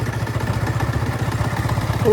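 A motorcycle engine chugs in a steady low rhythm close by, with faint rattling over the running motor.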